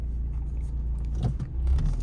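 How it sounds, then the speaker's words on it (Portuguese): Cars passing by on a road on a rainy day, heard from inside a Peugeot with an AL4 gearbox, as a low, steady rumble of traffic with a faint jangle of keys. "Deixa eu deixar esses carros passarem aqui."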